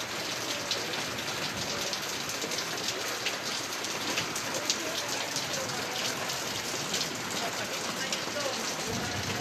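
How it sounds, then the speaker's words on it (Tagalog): Steady rain falls outside a house, a dense continuous hiss of drops on surfaces that stays even and fairly loud throughout, with no talk over it. "Walang pagbabago pa rin ang aming ulan-ulan pa."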